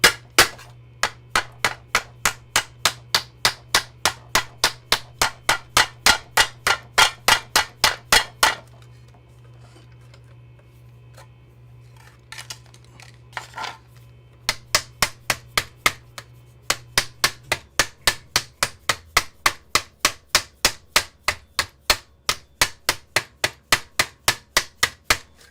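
Hammer blows shaping an object with a hard hammer instead of a rubber mallet, a loud steady run of evenly spaced strikes, a pause with faint handling noise, then another long run of regular blows over a low hum.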